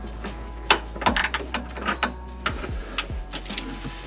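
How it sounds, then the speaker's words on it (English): Factory bump stop screw being unscrewed during a SumoSprings suspension install: a series of close, sharp metallic ticks and ratcheting clicks in irregular rhythm over a low steady hum, with no talking. "So there's a screw on top. I'm just gonna unscrew that, take it out"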